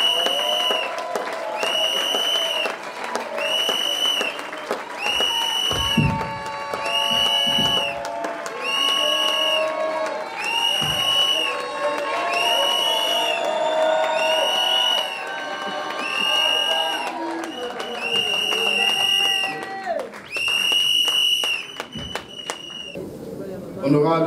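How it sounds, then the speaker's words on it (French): Loud crowd applause and cheering at a political conference announcing Corneille Nangaa's presidential run, sustained for over twenty seconds with shouts and a voice or chant running through it in repeating phrases. "sous un tonnerre d'applaudissements"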